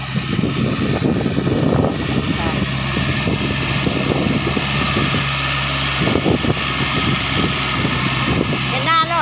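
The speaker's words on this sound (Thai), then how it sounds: "ไอ้หนุ่มรถไถกำลังไถปั่นหน้าอยู่จ้ะ" A tractor tilling and churning a flooded rice paddy in preparation for planting, its engine droning steadily and loudly nearby with some clanking, while someone talks over it throughout.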